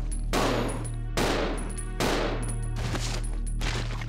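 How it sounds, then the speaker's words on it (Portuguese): Gunshots fire in Resident Evil Zero HD, a handful of loud, booming blasts spaced roughly a second apart, each trailing off in a long echoing decay, with faint high electronic tones between shots. "Eu sei que eu tô atirando."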